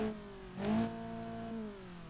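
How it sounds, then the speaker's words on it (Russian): A car engine and exhaust in BeamNG Drive version 0.16 with reworked exhaust and engine sounds, giving a faint, low hum that swells in one short rev before easing back to a steady tone. "теперь они отделили звуки выхлопа и звуки двигателя"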